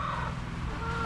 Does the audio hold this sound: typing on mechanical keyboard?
no